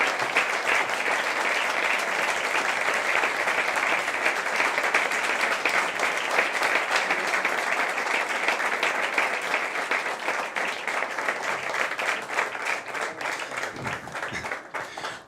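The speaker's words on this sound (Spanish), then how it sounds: "para quien pido un fuerte aplauso" An audience at an awards event gives steady, sustained applause for about fifteen seconds, a dense wash of clapping that thins slightly toward the end.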